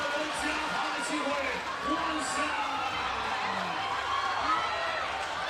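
Arena crowd at a FIBA 3x3 Asia Cup 2019 basketball game between China and Qatar, roaring and cheering steadily after a teardrop shot off the glass, a dense continuous wall of noise with a commentator talking over it.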